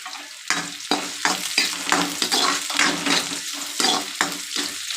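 Crushed garlic frying in a pan for fish curry sizzles in repeated loud bursts as it is stirred, each surge fading between strokes, close and with no talk.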